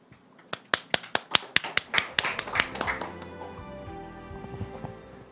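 A small seminar audience claps to welcome a presenter at a talk on healing agriculture: a run of crisp, separate claps that thickens into steady, moderate applause, with no voices.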